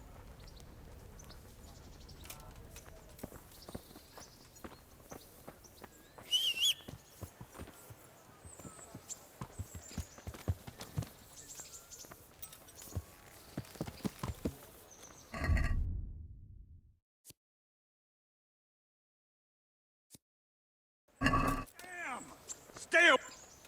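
Horses gallop in the Kingdom Come: Deliverance video game, hooves clattering in a dense rapid rhythm for about fifteen seconds, followed by a loud burst, near-silence, then more noisy bursts with speech mixed in.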